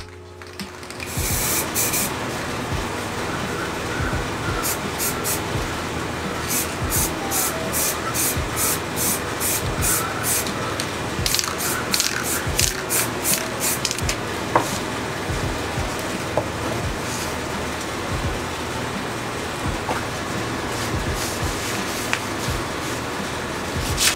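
Bursts of spray paint hiss close by, some long and some in quick repeated puffs, over a steady background hum, as paint is sprayed through a stencil.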